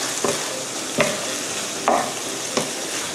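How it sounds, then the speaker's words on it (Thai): Curry potato filling stir-fries in a pan, a steady close sizzle broken by four soft scraping strokes of a spatula at an even pace. "เราก็จะผัดให้มันแห้งลงกว่านี้อีกนิดนึงนะคะ"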